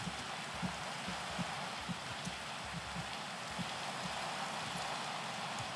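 Steady rain falling in Minecraft, a continuous soft hiss with faint patters of drops, quiet and even throughout.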